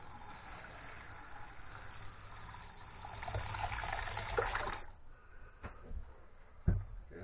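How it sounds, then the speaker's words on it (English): Collected sour beer yeast liquid strained through a filter: soft trickling and sloshing that swells, then stops, followed by a few sharp knocks and handling noises, with no talking. "I think I'm just straining it now, taking all the crap out."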